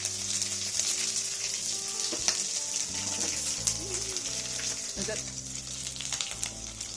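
Panch phoron, a whole chilli and a bay leaf dropped into hot oil, crackling and sizzling steadily up close while a utensil clinks and scrapes the pan now and then, with no voices.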